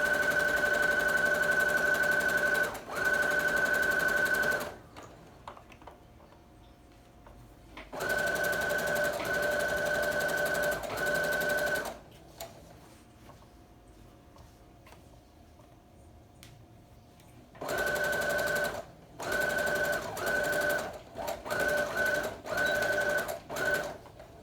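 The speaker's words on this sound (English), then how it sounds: "So because this part is going to have a lap, I'm gonna do a normal stitch here." A sewing machine stitches a normal straight seam on a dress with double circular sleeves, running in three steady bursts of motor whir and rapid needle chatter separated by quiet pauses, close and loud.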